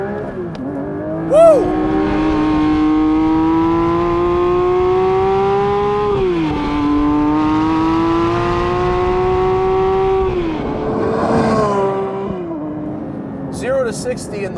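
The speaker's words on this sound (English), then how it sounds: "So taking off from a stop, you do have to ride the clutch a little more than normal." A Porsche 911 S/T engine pulling away from a stop and revving hard through the gears, its steady rising whine broken by two shift dips, loud and close from inside the car, with an excited voice cheering over it.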